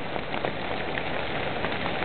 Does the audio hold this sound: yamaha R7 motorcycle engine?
no